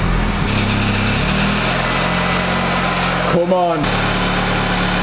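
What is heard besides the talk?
Audi S3 engine starting and idling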